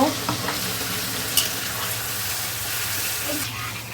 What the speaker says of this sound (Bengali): এবার মশলাটা দিয়ে দিচ্ছি, জল দিচ্ছি, ভালো করে কষে নেব।